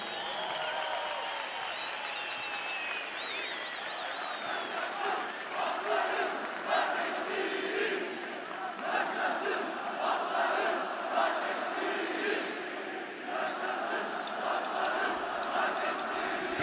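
A huge stadium crowd at a band's 25th-anniversary concert in Istanbul's İnönü Stadium applauds and cheers a guest musician onto the stage, roaring clapping and shouting that swells and holds, with a few voices rising above it.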